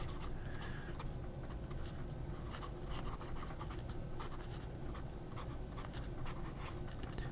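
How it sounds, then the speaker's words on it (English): Fountain pen with a Cypress nib scratching steadily across paper, close and continuous with short stroke bursts and no talk over it. "These Cypress nibs have a tendency to write like sailor nibs."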